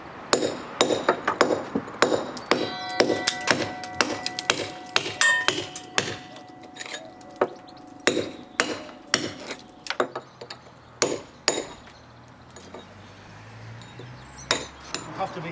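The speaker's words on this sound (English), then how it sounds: "You have to be careful again as you're chiseling off here, you don't crack it down." A chisel striking and chipping at a damaged brick on a house wall during repair, with a series of sharp, close metallic taps and clinks in irregular bursts that thin out toward the end.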